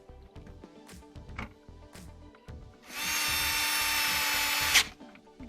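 A power drill tightens a fastener on a radiator cover of a GMC Yukon, one loud whirring burst of about two seconds close by, set against quieter clicks and handling noise.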